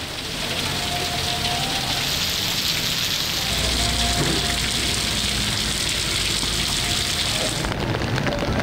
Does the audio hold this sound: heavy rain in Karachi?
yes